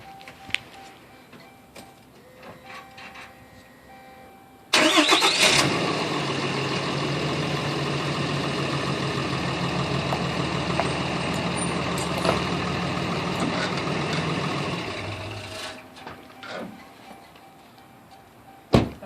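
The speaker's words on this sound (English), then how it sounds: "you'll get in your vehicle and move forward just about a foot." A vehicle fitted for Bluejay industrial tire chain installation starts abruptly with a loud engine burst, then runs steadily for about ten seconds before cutting off, with faint clicks and knocks before and after.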